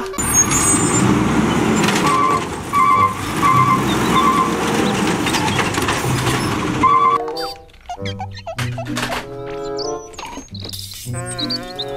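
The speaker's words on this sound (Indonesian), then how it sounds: "Mobil truk sampah." Garbage truck with a loud, close, steady diesel engine rumble and a brief air brake hiss, lasting about seven seconds, followed by a playful jingle with chirping tones.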